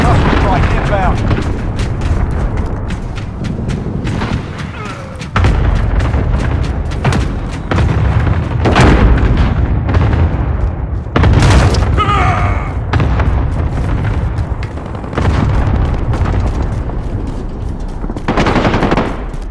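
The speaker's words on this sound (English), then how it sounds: "Allied cluster strike inbound." In Call of Duty: Modern Warfare, a cluster strike sets off a dense run of loud explosions and booms amid rapid machine-gun fire. The heavy impacts keep coming across the whole stretch, and game voice callouts mix in.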